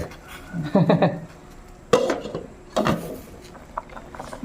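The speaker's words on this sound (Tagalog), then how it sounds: "Punin natin ang takip at ihalo natin yung isda" A metal pot lid clanks off and a spoon scrapes and knocks against the pot while talakitok fish is stirred, with a few distinct clatters spread over several seconds.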